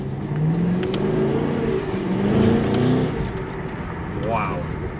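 Cadillac CT5-V Blackwing with its V8 accelerating hard in sport mode, a loud, steady engine roar heard from inside the cabin that swells and rises in pitch over several seconds, with a short whine near the end.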